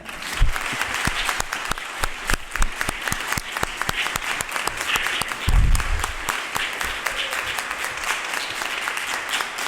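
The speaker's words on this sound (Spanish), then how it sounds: "les voy a pedir a mis colegas, a mis estudiantes y al resto de asistentes un aplauso para la profesora López Pelliza, directora del máster" Sustained audience applause at a master's programme closing ceremony in literary and Hispanic cultural studies, honouring the programme director, with many hands clapping loudly and steadily, individual sharp claps standing out near the front, no talk.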